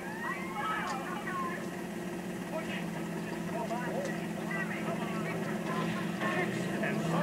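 A helicopter engine in GTA Liberty City Stories drones steadily and fairly loud through the whole stretch, with a voice talking over it.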